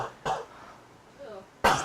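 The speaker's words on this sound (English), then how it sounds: "please cough onto camera" Two sharp coughs ring out roughly a second and a half apart, close and loud, with a faint murmur of voice between them.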